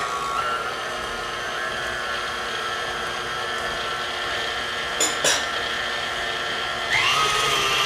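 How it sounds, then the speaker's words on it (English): An electric mixer running on low hums steadily while eggs are beaten into butter and sugar for a chocolate fudge cake, with a few brief clinks of the bowl near the end. "with our mixer running on low, we're adding the eggs."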